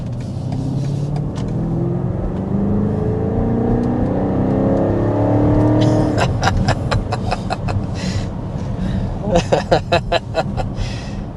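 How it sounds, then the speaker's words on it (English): A BMW X6 M60i accelerating hard up to 60 mph, its engine note rising steadily from low rumble through several upshifts, loud and close from inside the cabin, with a voice briefly speaking over the end. "that's a little acceleration up to 60 miles per hour with the X6 M60i"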